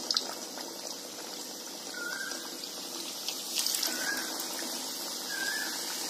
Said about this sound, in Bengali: ভাজা হতে থাক।